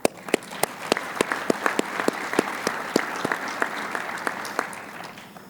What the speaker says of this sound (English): So round of applause for the Iowa PGA section staff.